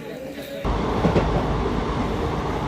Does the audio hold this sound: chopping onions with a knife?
no